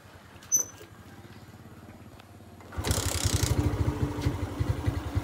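A small engine runs after its diaphragm spring was removed and it was started with no battery, ticking softly at first, then revving into a louder, rapid, steady idle-like putter close by.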